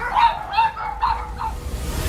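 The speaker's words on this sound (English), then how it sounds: "two dogs who were trying to keep it in line by barking at a full volume" Two dogs barking at full volume at a bear in a yard, a run of four sharp, loud barks at a steady rhythm with no talking.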